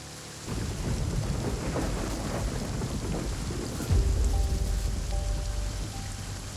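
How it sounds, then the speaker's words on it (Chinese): Heavy rain in a thunderstorm with strong wind, a dense steady downpour with a deep rumbling swell near the middle, loud and enveloping. "风大雨大"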